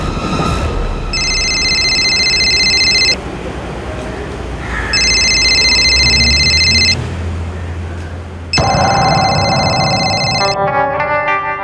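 A phone rings in repeated electronic bursts, three long trilling rings separated by pauses over a low background rumble.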